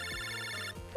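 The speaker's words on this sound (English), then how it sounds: "Lan, phone call." Phone ringing in the handheld game Mega Man Battle Network 4 Red Sun, a fast electronic trill of bright chiptune tones in a brief burst that cuts off suddenly, with no talk.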